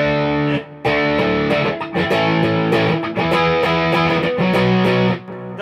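Electric guitar played as rock backing power chords through a BB Preamp overdrive pedal at about half gain, a light, clean-edged drive with distinct chord definition; several loud strummed chords ring out in sequence with short gaps, no talking.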